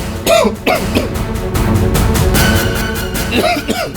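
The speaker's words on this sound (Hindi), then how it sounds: "साहब, बुखार है और थोड़ी खांसी भी।" Several harsh coughs from a man said to have fever and a slight cough, heard close and loud in a TV crime drama scene, with short bursts at the start and again near the end over background music.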